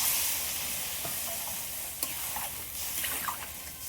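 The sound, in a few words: water and green chillies added to sizzling fish in a pan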